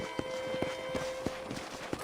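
Horse hooves clip-clop in the video game Red Dead Redemption, a steady, moderately quick rhythm, several distinct clops over a faint steady tone, with no talking.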